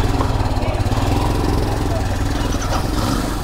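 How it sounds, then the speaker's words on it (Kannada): Royal Enfield Himalayan motorcycle engine running steadily with a close, continuous rhythmic thrum and fast pulsing exhaust beat, loud and unbroken throughout. "ರಾಯಲ್ ಎನ್ಫೀಲ್ಡ್ ಹಿಮಾಲಯನ್ ಓಡಿಸ್ತಾ ಇದೀನಿ."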